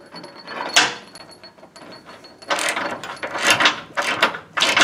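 A ratchet snugs bolts on an aluminum gas tank skid plate under a Jeep Wrangler JKU, with bursts of quick clicking near and moderately loud, separated by quieter pauses and light handling noise.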